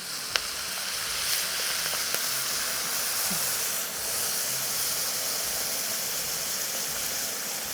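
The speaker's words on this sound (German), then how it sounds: "Und jetzt kommt Wasser dazu." Water added to a hot pan of hamburger mix gives steady loud sizzling and hissing, a broad steamy hiss holding for several seconds with a few small clicks.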